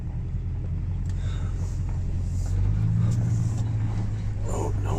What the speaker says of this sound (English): I'm in the truck, backing up, getting over to the goat's pen.